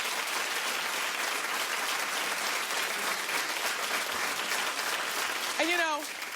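A talk-show studio audience applauds, a loud, sustained roar of clapping throughout, with a brief whoop rising above it near the end.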